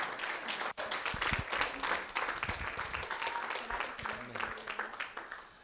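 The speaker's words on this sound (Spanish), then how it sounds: "Les damos una fuerte ofrenda de palmas a nuestro Señor." A church congregation at a Spanish-language service gives a sustained round of hand clapping, fairly soft and even, lasting several seconds with one brief dip.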